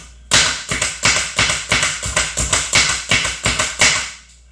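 An electric food chopper pulses through food in quick, evenly spaced bursts, about ten sharp whirring chops in a few seconds, loud and close with no talking.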